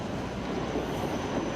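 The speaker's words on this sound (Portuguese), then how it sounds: "o trem chega na hora" A tram pulls into a stop in Wrocław, Poland, a steady low rumble and rolling clatter that stays loud and continuous with no voices over it.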